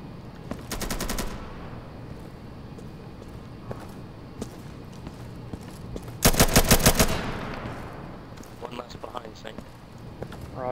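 Two loud bursts of rapid automatic gunfire from the Insurgency video game, one early and a longer one midway, over a steady game ambience with footsteps and scattered sounds and occasional voices in the background.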